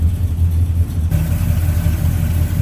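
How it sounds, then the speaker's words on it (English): The 400 V8 in a 1967 Pontiac GTO with an MSD ignition and an Edelbrock Performer RPM intake, running with the hood up. It gives a close, steady low rumble with a slight shift in tone partway through. "There's a little rumble coming out of that 400."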